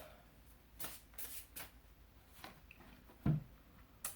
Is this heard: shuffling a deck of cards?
yes